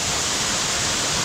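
Powerful Bali waterfall pounding into a shallow pool, a loud dense roar of rushing water filling the whole clip, heard up close with no voices.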